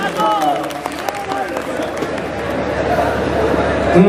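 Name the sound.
mushaira audience clapping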